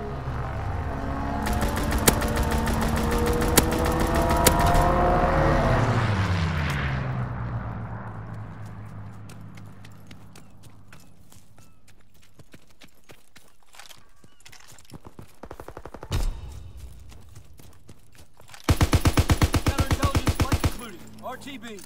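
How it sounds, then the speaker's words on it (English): An aircraft strafing run in Call of Duty: WWII multiplayer, with long bursts of rapid machine-gun fire, an engine roar passing and fading, then quieter scattered shots before a final loud burst. "Strafing run inbound."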